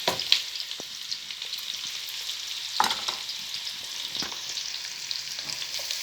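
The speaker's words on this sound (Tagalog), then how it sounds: "Ngayon naman, maggigisa na tayo." Chopped garlic and onion sauté in a hot pan with oil, a steady sizzle and hiss broken by occasional scraping clicks of a spatula stirring.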